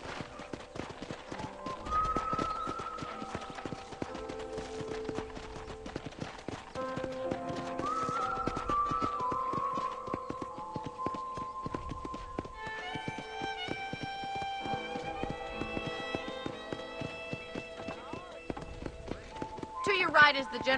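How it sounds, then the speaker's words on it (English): Horse hooves clip-clopping on a ranch in the Red Dead Redemption game, a steady run of hoofbeats under game music with occasional whinnies and a character speaking over it. "let's see if you can still ride a horse"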